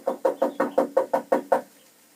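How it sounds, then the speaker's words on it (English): Nine steady knocks rap on the door of a small cozy cottage in a quick even rhythm, close and clear, then stop, with no voices. "I'll knock on the door."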